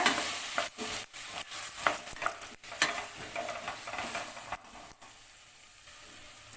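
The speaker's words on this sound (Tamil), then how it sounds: "இது கூடவே ரெண்டு தக்காளியை கட் பண்ணி வச்சுருக்கேங்க அதையும் சேர்த்துக்கோங்க இதுவும் நல்லா சாஃப்ட் ஆகணுங்க அது வரைக்கும் நல்லா வதக்கிக்கோங்க" Onions and chopped tomatoes are sautéed in a pan for sweet corn gravy, with a soft, uneven sizzle and scraping stirs and knocks of a spoon against the pan.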